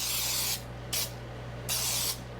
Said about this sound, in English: I'm just going to take some baking pan, and I'm just going to spray